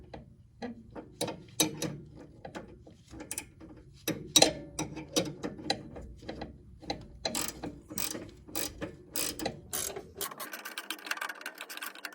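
A hand ratchet clicks through repeated bursts while loosening the 17 mm nuts on a rear sway bar link of a 2015 Lexus IS250, close and crisp, with a short pause between strokes and a brief metallic rattle near the end; no talking.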